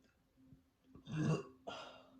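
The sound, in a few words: burp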